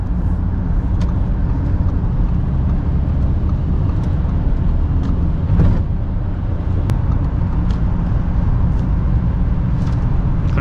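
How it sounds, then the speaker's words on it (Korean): Audi A6 40 TDI front-wheel-drive diesel accelerating hard on a snowy road, heard from inside as a steady loud low drone and rumble that holds throughout. "여기서 만약 밟을 수 있을 때까지 한번 밟아 볼게요"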